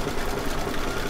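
An embroidery machine stitches fabric in a quick, steady mechanical whirring and tapping, close and continuous through a brief moment with no talk.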